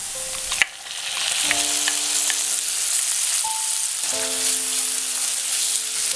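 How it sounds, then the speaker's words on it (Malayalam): Onion and tomato sautéing in a pan, a steady close sizzle with a sharp clink near the start and faint utensil scrapes through the frying. "ഇതൊന്ന് വഴറ്റിയെടുക്കാം."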